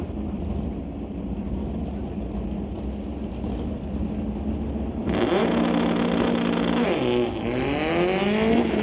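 Two drag racing cars, a '67 Mustang and a Volkswagen, launching at an NHRA Northwest National Open event. A steady engine rumble gives way to a sudden loud roar as the engines rev and climb through the gears, with a brief announcer voice at the start.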